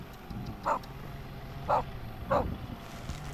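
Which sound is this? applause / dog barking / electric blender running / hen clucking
dog barking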